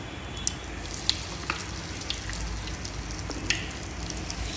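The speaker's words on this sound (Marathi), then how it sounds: "त्याच्यामध्ये 1-2 चमचे तेल घेतलेलं आहे, त्याच्यामध्ये मी टाकते मोहरी 1/2 चमचा, देन थोडेसे जिरे, देन मी टाकणार आहे 1/2 चमचा हिंग पूड" Mustard seeds, cumin and asafoetida in a spoonful or two of hot oil give a steady, soft sizzle with scattered sharp pops and crackles, with no talking.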